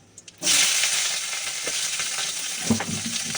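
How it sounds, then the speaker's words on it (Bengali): Flat beans and brinjal hit hot oil in a wok with a sudden loud sizzle, settling into a steady close frying hiss with occasional pops and stirring scrapes. "এবার দিয়ে দেবো এই যে শিম আর বেগুনটা দিয়ে দেবো"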